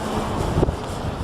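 Strong wind gusts buffet the microphone at a model airplane flying field, a steady broadband roar that swells briefly midway with no voices.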